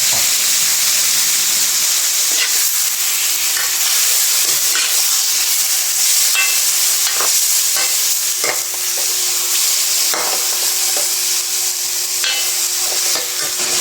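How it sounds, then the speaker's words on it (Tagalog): Squid goes into a hot pan for adobong pusit and is stirred, giving a steady close sizzle broken by repeated scraping and clacking stirs, with no talking. "ilalagay ko na po yung ating pusit at halo-haluin po natin"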